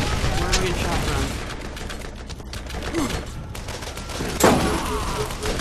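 Rapid gunfire from a Borderlands shooter game, a dense continuous fusillade with a sharper blast near the end, under a busy game soundscape with voices in the background.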